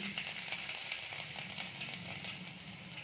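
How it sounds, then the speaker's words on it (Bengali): Garlic frying in hot oil in a pan on a gas stove, a dense, continuous crackling sizzle that stays even throughout, close and moderately quiet. "আমরা সবার প্রথমে গ্যাসটা ধরিয়ে তেলটা আগেই গরম করতে দিয়ে দিয়েছি এখন আমরা দিয়ে দেবো রসুন"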